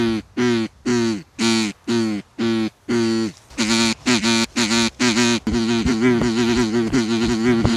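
Loud, close duck-call quacks blown through a duck call mounted on a hat, in a steady rhythmic series, one sharp honk after another, growing faster and more clustered toward the end.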